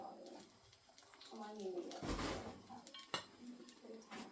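A metal fish slice scraping and clinking against a pan of loaded chili fries, a few short scrapes and taps, faint and close, with quiet talking around them.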